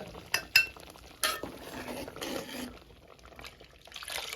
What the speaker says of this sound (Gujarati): હજી જરાક વઘાર નાખી દઈએ